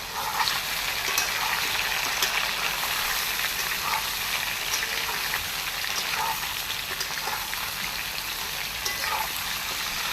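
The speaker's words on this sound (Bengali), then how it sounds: "সব আমগুলো তুলে দিলাম, এরপর একটু নাড়াচাড়া করবো, আমগুলো একটু ভাজা ভাজা হবে" Salted mango pieces, about 1.5 kilos, sizzle and crackle in hot oil for a mango pickle. The frying noise is loud and steady throughout, with no voices.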